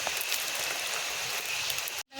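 Steady rain patters outdoors during an open-fire cooking session for beef pickle, a dense, even hiss of drops on surfaces lasting about two seconds before cutting off abruptly.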